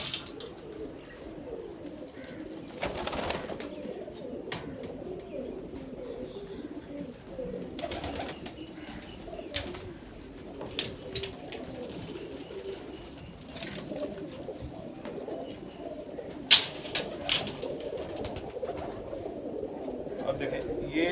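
Pigeons coo softly in a loft as someone speaks Hindi over them, with occasional wing flutters and low murmuring calls in the background.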